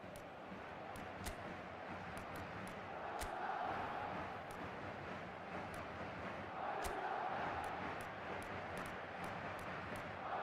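Stadium crowd in a football video game, a steady distant roar of many voices with swelling cheers and scattered sharp clicks, continuous and fairly faint throughout.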